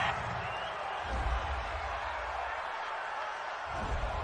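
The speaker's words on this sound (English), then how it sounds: "this crowd does not like that call" Stadium crowd at an NFL game between the New York Jets and Philadelphia Eagles reacting to a penalty call, a broad sustained roar with steady booing-like swells throughout.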